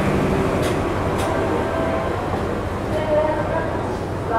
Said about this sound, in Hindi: ये निकली यहाँ पे भागलपुर आनंद विहार गरीब रथ एक्सप्रेस